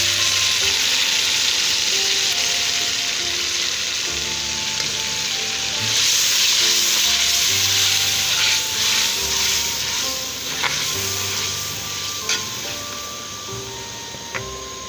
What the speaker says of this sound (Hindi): अब इसमें पेस्ट शामिल कर दें, ये टमाटर, सब्ज़ मिर्ची और प्याज